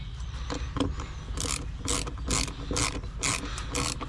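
A ratchet clicks in rapid bursts while bolts are tightened on the rear wheel of a Suzuki V-Strom 1000 motorcycle during a wheel bearing and seal replacement, with each pull coming close and loud in an even rhythm.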